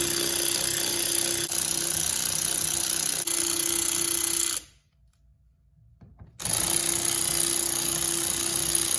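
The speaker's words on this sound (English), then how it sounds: "I know I'm using my fancy handy dandy ratchet here" Power ratchet spinning out bolts on a 2011-2015 Ford Explorer fog light trim, a loud steady buzzing whir that cuts off briefly for about two seconds, then resumes, close up.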